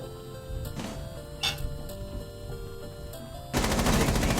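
Gunfire in the tactical shooter game Rainbow Six Siege: a few sharp isolated shots over steady game ambience, then a loud sustained burst of rapid automatic fire at the end.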